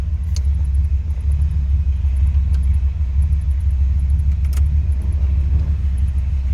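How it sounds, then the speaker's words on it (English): A 1968 Chrysler 300 convertible with a 340 V8 idles close by, a steady, deep low rumble throughout with a few faint light jingles over the top and no talking. "Nice little rumble coming out of that 340."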